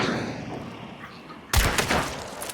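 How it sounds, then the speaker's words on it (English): A single sharp gunshot from the Hunt: Showdown shooting-practice tutorial cracks out after a quiet stretch of game ambience, followed by a rumbling, echoing tail. "You can always stick around for more shooting practice and get a feel for the weapons."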